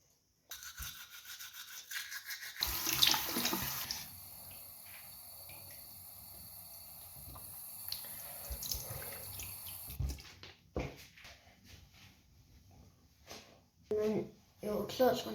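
Water running from a sink tap during washing, with splashing and dripping bursts that come and go, heard alongside a voice speaking close by.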